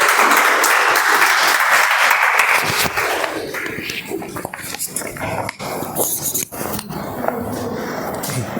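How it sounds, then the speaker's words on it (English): Applause from a Toastmasters meeting audience, loud and dense for about three seconds, then thinning out into scattered, quieter noises. "Please give a round of applause."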